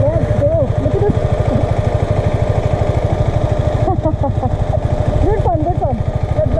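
A KTM 250 Adventure motorcycle's single-cylinder engine chugs at a low, steady pulse while riding an off-road patch, close and continuous, with bird chirps and brief rising revs over the top.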